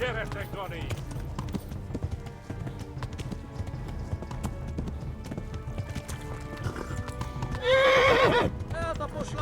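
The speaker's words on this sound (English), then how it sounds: "Um cavalo." In the medieval video game Kingdom Come: Deliverance, a horse's hooves clip-clop steadily under voices and game noise, and a loud, close neigh rises near the end.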